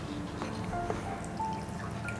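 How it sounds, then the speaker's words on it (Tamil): Water poured into shampoo to dilute it, a steady close liquid trickle with small drips and gurgles running the whole time, moderately quiet and without speech. "நான் இவ்வளோ தண்ணி வந்து போட்டு நல்லா வந்து இதை டைல்யூட் பண்ணிக்கிறேன்"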